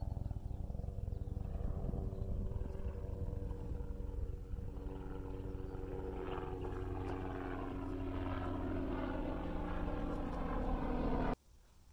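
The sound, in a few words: small black helicopter flying overhead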